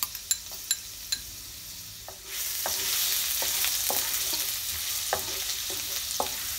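Finely chopped garlic cloves fry in oil in a wok for stir-fried vegetable spaghetti: a few sharp clicks of a spatula, then a loud, steady sizzle breaks out and continues under occasional scraping taps.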